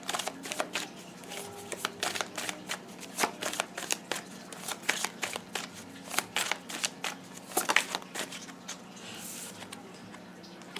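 Tarot cards being shuffled and drawn, a rapid run of crisp riffling snaps and soft flicks close by that comes in bursts throughout, with no talking.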